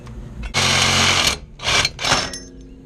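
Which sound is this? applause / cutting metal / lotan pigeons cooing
cutting metal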